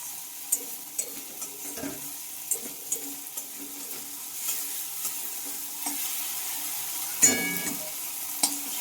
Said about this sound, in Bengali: খুব সুন্দরভাবে মশলাটা কিন্তু আমি কষিয়ে নিয়েছি